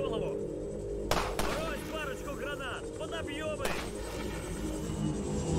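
Sniper shots ring out in the VR game Half-Life 2, two sharp, loud cracks spaced a few seconds apart over a continuous rumbling battle background, with voices calling out between them.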